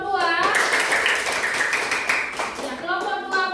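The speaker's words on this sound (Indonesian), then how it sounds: "baiklah kita beri tepuk tangan untuk kelompok 2" A primary-school class in a Christian religion lesson claps for a student group for a couple of seconds, a dense burst of many hands, with a teacher's voice heard before and after.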